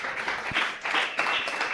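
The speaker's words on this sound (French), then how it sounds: "Applaudissez l'Éternel" A church congregation applauds in a steady, dense wash of many hands clapping, full and sustained throughout with no voices standing out.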